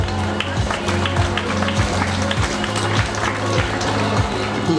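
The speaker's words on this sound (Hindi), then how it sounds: "जोरदार ताली।" Loud, sustained applause from a school annual day audience, a dense crowd of clapping hands with a rhythmic pulse running through it, continuous for the whole stretch.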